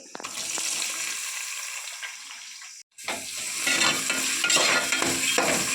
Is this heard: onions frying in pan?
yes